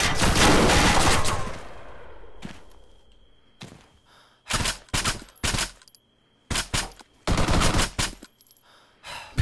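Gunfire in Arma 3: a long, loud, sustained burst of automatic fire, then scattered single shots and short, sharp bursts separated by quiet gaps, some near and some farther off.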